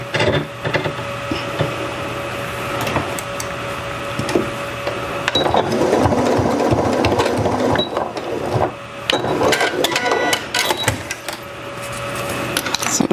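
A sewing machine top stitching fabric, a continuous mechanical whirring and rapid ticking of the needle with short pauses and clicks between runs, close and fairly loud.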